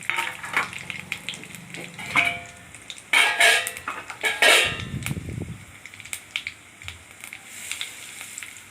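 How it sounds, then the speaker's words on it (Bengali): Four dried red chillies and five-spice seeds spit and crackle in hot oil for a mango pickle, with bright sizzling bursts, a few clinks of a spoon against the pan and a low stir midway, close up and without speech. "তেলটা গরম হলে চারটে শুকনো লঙ্কা একটু ফাটিয়ে দিয়ে দিলাম পাঁচ ফোড়ন দিয়ে দিলাম"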